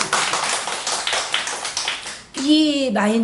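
A church congregation claps during a Sunday worship service: dense, steady clapping fills the first two seconds and then breaks off as a voice starts speaking.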